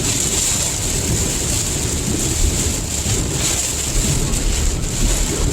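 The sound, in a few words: rain and thunder in a hunting video game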